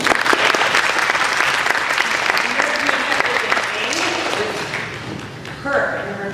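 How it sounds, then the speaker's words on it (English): An audience applauds a designer at a fashion-themed Comic-Con convention panel, loud clapping at first that gradually thins and fades, with a voice returning briefly at the end. "can we give a little round of applause for Jaimie"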